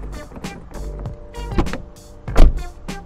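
Repeated mechanical clicks and clunks of a Fiat Tipo estate's problematic door handle being worked, several sharp snaps over a steady low rumble, close up.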